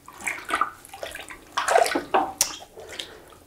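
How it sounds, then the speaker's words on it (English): Fibres being stirred in an alum mordant water bath, close sloshing and swirling water in irregular bursts, quiet overall with a few louder splashes and no talking. "So now we've put our fibres into the alum mordant bath. I'm just going to stir them"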